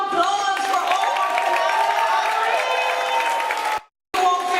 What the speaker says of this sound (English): another round of applause for all our